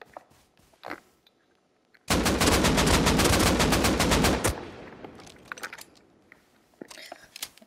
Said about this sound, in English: I think that was the Tommy shots I heard.